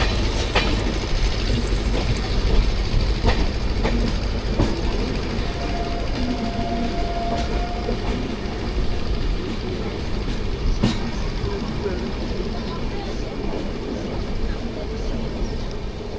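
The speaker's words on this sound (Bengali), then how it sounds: "ট্রেন পুরোপুরি 130 গতিবেগ নিয়ে ছুটে চলেছে" A Puri to Sealdah Duronto Express train rumbles along at 130 km/h with a constant heavy roar and occasional rattling clicks, continuous and close throughout.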